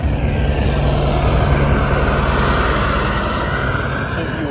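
A helicopter flies overhead, a steady, loud rotor and engine drone that holds evenly throughout with no other sounds over it.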